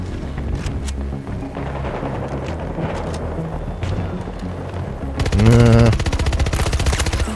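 An AEK rifle in the video game Battlefield 2042 fires in rapid automatic bursts, a dense crackling rattle of gunfire with one louder, heavier blast near the end.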